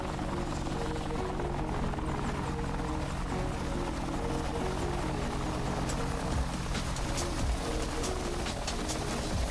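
Helicopter in the DCS World flight simulator video game, a steady, loud rotor and turbine drone with constant rhythmic chopping that holds throughout, with no talk.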